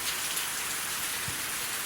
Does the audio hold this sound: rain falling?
yes